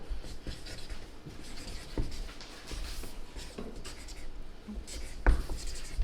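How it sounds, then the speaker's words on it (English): A pen or pencil writing on paper during a live Sherlock Holmes theatre show, with soft, close scratching strokes and small rubbing sounds in an otherwise quiet room. "could you write Cambridge Barracks 1887 on there?"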